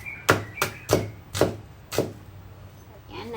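Five sharp knife strikes hit a board in quick irregular succession as a small knife chops potatoes, close and crisp, then the sound trails off into quiet.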